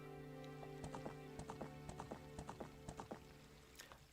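Epona, the horse in Ocarina of Time, gallops with steady clip-clop hoofbeats over game music, and a whinny breaks in near the end, all moderately loud with no talk heard.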